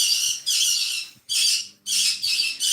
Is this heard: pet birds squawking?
yes